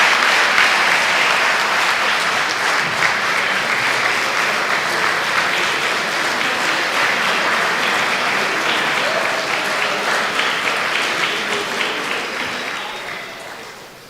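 An audience applauds at a press conference announcing SCSU's R2 designation, a dense, steady wash of many hands clapping that holds evenly for a long stretch before tapering off at the end.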